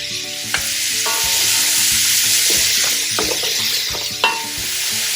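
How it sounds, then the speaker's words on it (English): Diced carrots, celery and onion cooking over medium heat in a pan, a continuous close sizzle broken by spoon stirs and knocks against the pan every second or so. "the carrots, celery, and onions have been cooking for about 5 minutes"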